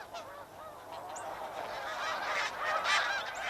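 A large flock of migrating geese honks continuously in autumn, many overlapping calls rising and falling, growing somewhat louder toward the end with no speech.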